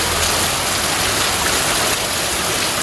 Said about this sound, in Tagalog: Ganyan na nangyayari kapag umuulan dito.